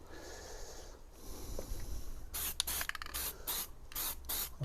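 A spray gun lays a coat of paint on a car, with a quiet stretch first and then loud hissing bursts that start and stop in short, uneven passes close by.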